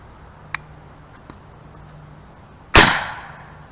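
A Condor .25 air rifle fires a single pellet shot: one sharp, loud crack with a short decaying tail. Two faint small ticks come just before it in otherwise quiet surroundings.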